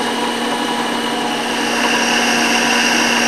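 A steady mechanical hum from a drill press running with sound bearings, even and continuous at close range, with no knocks or irregular clicks and no voices.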